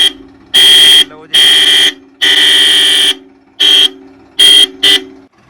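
Loud, blaring tractor horns sound in a series of long and short blasts, separated by brief gaps, very close and harsh.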